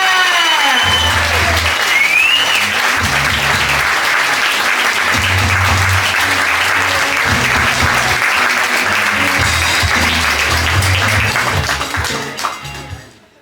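Sustained audience applause at a stand-up comedy show as a comedian is introduced, with loud, dense clapping and some crowd noise throughout, fading out near the end.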